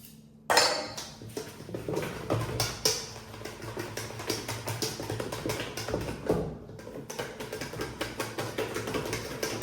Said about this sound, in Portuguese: Eu vou acabar usando um fouet para misturar melhor toda a massa.